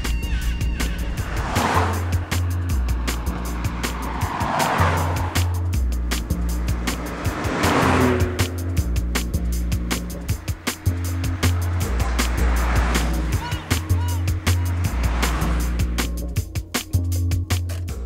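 A Nissan Skyline accelerates hard through repeated gear changes, its engine note climbing and dropping in cycles over roughly eighteen seconds, loud and close with a constant rumble and no talk.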